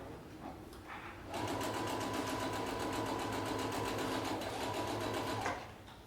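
A sewing machine runs steadily for several seconds, stitching a 3/8 inch seam on a fabric face mask, its rapid needle chatter close and even before it stops.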